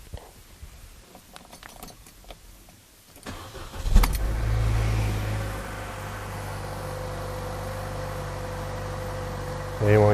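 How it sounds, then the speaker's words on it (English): A car engine fitted with electronic variable valve timing actuators cranks briefly, catches and settles into a steady idle, after faint quiet handling noises; a short revving surge comes near the end. "So I'm going to start this engine up."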